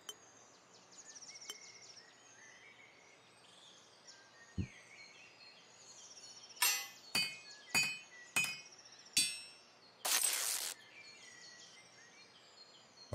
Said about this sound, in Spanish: Martillo de construcción.